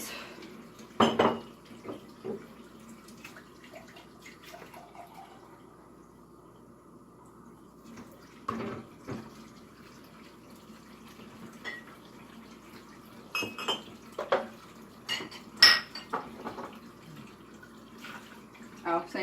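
Dishes being loaded into a home dishwasher, with scattered clinks and clatters of plates, glasses and cutlery at close range, a few sharper knocks standing out against a quiet room hum.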